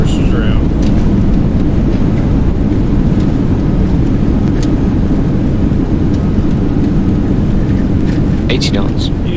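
Boeing 737NG thrust reversers roaring during landing rollout in the X-Plane 11 flight simulator, a loud, steady broadband rumble that holds for the whole stretch with faint higher tones above.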